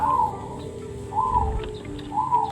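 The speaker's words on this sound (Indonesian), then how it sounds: "Suara burung perkutut." A zebra dove (perkutut) coos three times in a steady repeating rhythm, each call a short rising-then-falling note, moderately close against a faint background hum.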